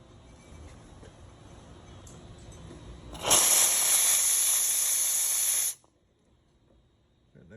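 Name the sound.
steam released from Rocket Appartamento espresso machine steam wand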